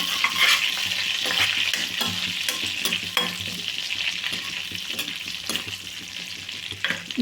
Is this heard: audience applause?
no